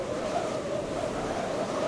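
Constant low roar of the sea near an ancient lighthouse on the coast, a dense, steady wash of surf with wind noise and no pauses.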